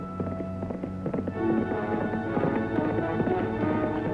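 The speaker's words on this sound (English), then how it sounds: "That's Al's horse" A horse clip-clops at a steady walking pace in an old western TV scene, its hooves knocking clearly and close, with no talk over them.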